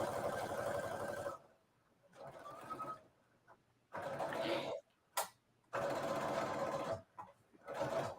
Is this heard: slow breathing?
no